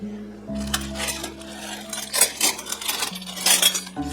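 Silver-plated ladle and silverware clinking and rattling as they are handled, with several bright metallic chinks close by and a steady hum underneath.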